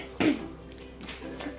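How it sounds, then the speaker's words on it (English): Someone clears their throat once, a short, rough, close burst over a faint room background, with no talking. "I'm trying to clear my throat."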